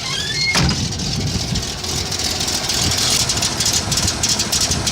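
A Toyota FJ40 carbureted engine idles steadily with an exhaust leak, giving a close, continuous rumbling chug with a puffing, ticking texture and a bright hiss on top, and a sharp knock near the start.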